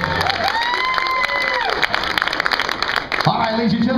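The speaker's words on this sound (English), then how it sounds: "Big round of applause" Crowd at an outdoor Dutch oven cook-off in Mesquite claps and cheers with shouts, a loud steady burst running the full length, with whistles and a voice near the end.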